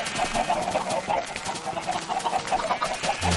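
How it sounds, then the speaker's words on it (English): Chickens in a crowded Minecraft chicken farm cluck continuously, many birds overlapping in a dense, busy chorus, steady and fairly loud throughout with no talk. "there are so many chickens that they're pushing each other up the fence"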